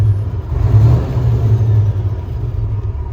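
A 2015 Kenworth W900L glider truck with a 12.7-liter Detroit engine revs up close by as a steady, deep rumble that swells slightly around the first second, then holds an even drone.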